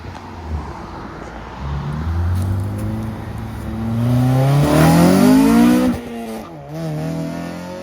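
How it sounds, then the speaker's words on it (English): A Honda Civic Si FA5 heard from inside while driving, its engine droning then revving higher through the gears, rising to a strained peak before easing off and climbing again. "it's Chris's first time driving it again?"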